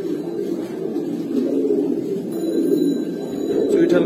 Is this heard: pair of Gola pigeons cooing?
yes